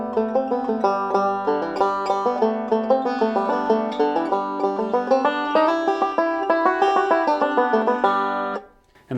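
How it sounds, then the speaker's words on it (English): A 5-string banjo plays the A part of the tune Big Sciota, a quick, even stream of bright plucked notes, close and clear, with no voices, ending in a short pause. "So Big Sciota A part sounds like this."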